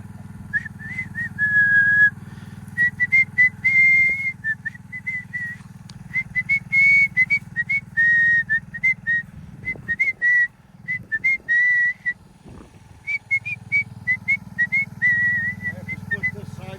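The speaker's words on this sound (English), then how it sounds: "we always like to whistle while we work" A tuneful whistled melody while splitting firewood outdoors in cold weather, in short, repeated phrases, with pauses between, over a low steady motor hum and brief bits of background noise.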